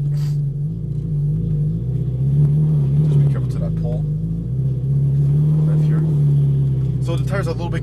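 Ferrari 458 Italia V8 engine on a race track, a loud steady low drone with slight rises and falls in revs, heard from close by as a person talks over it.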